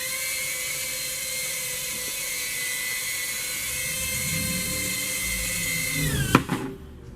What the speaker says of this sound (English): let's land it right now like it should be landed, very slowly and gently.